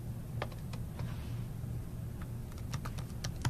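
Computer keyboard typing while entering a username, a run of quick, close key clicks in an irregular rhythm, busiest toward the end, over a low steady hum.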